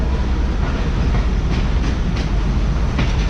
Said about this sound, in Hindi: और ये ट्रेन हमारी अप्रोच बना रही है लाड़काना जंक्शन रेलवे स्टेशन पर